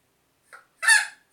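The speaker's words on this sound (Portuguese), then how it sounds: "Agora tá cantando como galinha." A hen gives a loud, clear cackling call like a chicken after a short faint cluck, then falls silent, heard alone and close up.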